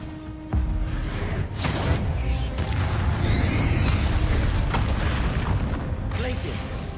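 Bombarda spell explosion in Hogwarts Legacy, a heavy boom with rumbling blast debris and swirling magic effects, following a sharp onset, while a voice speaks over the game sound.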